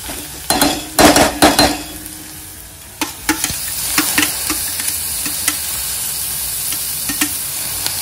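Onion and curry leaves sautéing in hot oil with ginger, garlic and green chilli, giving a steady close sizzle broken by several sharp stirring and spoon-scrape clatters, loudest in the first two seconds.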